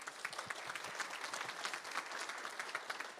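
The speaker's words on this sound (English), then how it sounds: "give yourselves a round of applause, everyone." An audience at a start-up pitching final claps for the finalists, a steady wash of many hands applauding at moderate distance, even and sustained throughout without letup.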